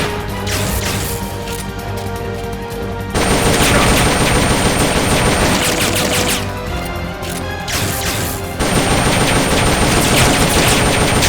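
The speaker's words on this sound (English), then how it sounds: "You destroyed the machine gun!" Sustained machine gun fire in the Metal Gear Solid: Peace Walker video game, a loud continuous rattle of rapid shots that swells in two heavier bursts amid crashing impacts, with no talking.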